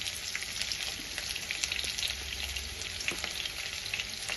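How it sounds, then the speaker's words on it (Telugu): Tempering seeds frying in three spoons of hot oil in a kadai for egg fried rice give a dense, even crackling sizzle, close and steady with faint pops. "ఇలా ఆయిల్ వేడెక్కిన తర్వాత కొన్ని తాలింపు గిన్నెలు వేసుకోవాలి"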